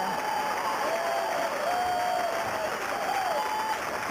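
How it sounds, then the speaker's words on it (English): A bowling crowd at the 1994 LPBT Three Rivers Open applauds a spare, with continuous even clapping and crowd noise under a thin, wavering whistle-like tone. "And she applauds herself"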